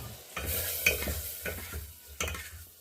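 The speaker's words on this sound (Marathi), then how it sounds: "त्याला फोडणी देऊन घ्यायचं आता ते" A wild-vegetable khadak teri gravy is tempered and stirred in a pan, with a soft sizzle under a few separate scraping strokes of a spoon against the metal.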